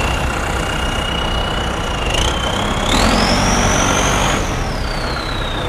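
Engine of a used Kubota L5018 tractor fitted with a racing exhaust, running steadily and loud up close, with a high whine that climbs in pitch midway, holds, then slowly falls.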